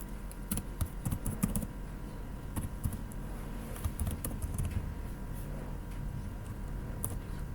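Java code being typed on a computer keyboard: steady, close, rapid keystrokes in irregular bursts over a faint constant room hum, with no talking.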